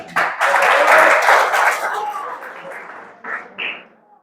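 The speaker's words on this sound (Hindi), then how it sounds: "बजाओ इसमें ताली।" A crowd breaks into loud applause that swells and then gradually thins out. A few voices or cheers rise near the end.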